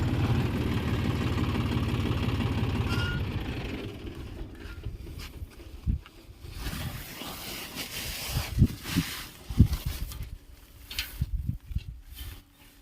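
A farm tractor's engine on a cumin field drones loud and steady for the first few seconds, then drops away, leaving quieter scattered thumps and knocks.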